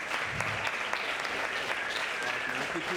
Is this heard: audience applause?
yes